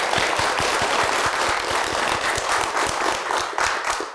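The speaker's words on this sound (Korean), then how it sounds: "그럼 이렇게 좋은 답변해 주신 정은 스님께 다시 한번 큰 박수 부탁드리겠습니다." An audience at a Buddhist temple event applauds, a dense steady burst of clapping from a crowd with no talk over it.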